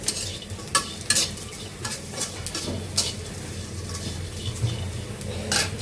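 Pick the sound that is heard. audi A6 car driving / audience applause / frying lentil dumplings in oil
frying lentil dumplings in oil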